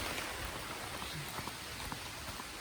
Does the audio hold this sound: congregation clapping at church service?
no